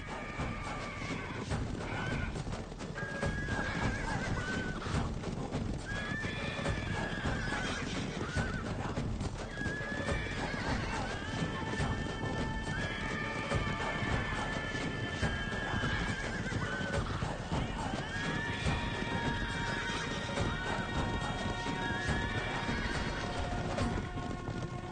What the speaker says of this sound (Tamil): இந்த குதிரைகள் அனைத்தும் அடங்கா குதிரைகளாகும்.